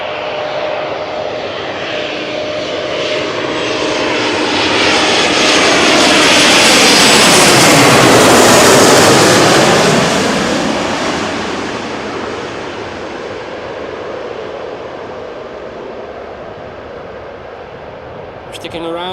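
A jet airliner passes low over the northern threshold of runway 18C at Amsterdam Schiphol to land, its roar swelling to a loud close peak with a falling whine, then fading away; a voice talks quietly alongside.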